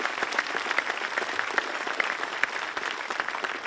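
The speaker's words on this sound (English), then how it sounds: "Would you please show your appreciation for those groups now with a round of applause?" An audience at a high school commencement ceremony applauds in a continuous, fairly distant patter of many hands with a few sharper claps standing out, steady throughout.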